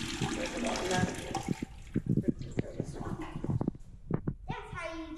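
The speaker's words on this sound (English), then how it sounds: "That's how you get them to flush." An automatic toilet flushes in a restroom at the Museum of Natural History in Paris, a rushing gush of water close by, while people talk over it.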